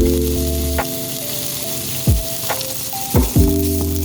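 Garlic and ginger frying in oil in a hot pan, a steady sizzle with a few brief scraping or clinking sounds and occasional low thumps over a constant tonal hum.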